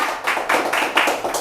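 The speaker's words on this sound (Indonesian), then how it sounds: "Iya, tepuk tangan dulu dong." An audience claps in a steady, close burst of pulsing handclaps during a talk show with university faculty basketball athletes.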